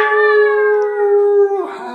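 A single voice imitates a wolf's howl in one long, sustained, steady tone that falls away at the end, read aloud from a children's story about wolves.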